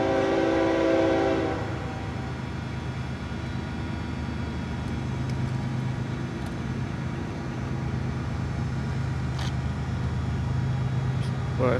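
FEC 222, a freight train running at full throttle, rumbles past steadily with a low engine drone, after a brief horn note at the start. A voice talks early on.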